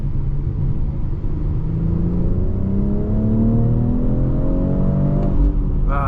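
A 2023 BMW X4 M40i in Sport Plus mode pulls hard on the highway, its engine note climbing steadily in pitch over a loud, constant road rumble, with no one speaking.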